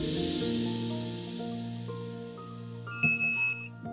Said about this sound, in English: It'll give you a nice loud beep to let you know when it's finished.